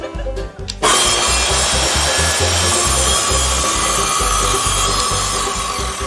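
Remote-controlled power saw ripping through wood in a workshop, a few faint knocks at first, then a loud, steady buzzing cut that runs continuously up close.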